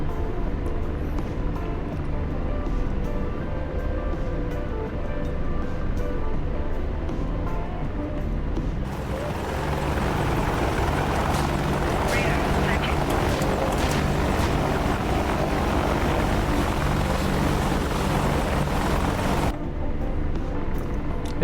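Apache helicopter flying in a war video game, a steady droning rotor and engine roar that holds for about twenty seconds, thickening with extra noise partway through.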